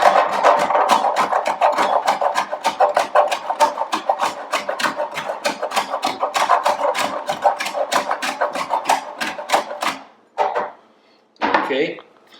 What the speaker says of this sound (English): Then I'm going to grate some cheese.